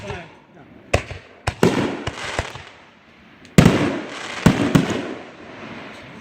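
Fireworks at a private backyard show in Black Earth, Wisconsin: a string of sharp pops and crackling bursts with hissing tails, loud and fairly close, while people talk.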